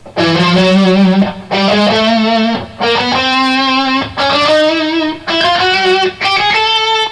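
Electric guitar runs a three-notes-per-string scale from E in six quick ascending bursts with short gaps between them, loud and close, with a bright overdriven tone and no talking.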